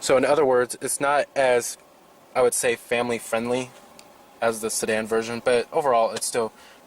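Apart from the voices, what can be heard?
No everyday noise stands out behind the speech.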